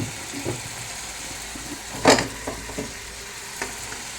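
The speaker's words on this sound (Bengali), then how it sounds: "একটু নাড়াচাড়া করতে হয়" Quail meat frying in a pan while being stirred, a low steady sizzle broken by a sharp scrape of the spoon and a few lighter clinks, close and with no talking.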